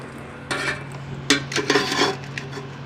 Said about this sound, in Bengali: এই যে থাল বসন বাসন মাজছে